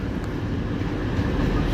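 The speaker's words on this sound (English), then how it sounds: "Now departing platform 6A is the 1611 Transpan Express service from Cleethorpes to Manchester Piccadilly" Train pulling away from a platform at Sheffield station, a loud, steady low rumble and rolling roar close by with no distinct clicks.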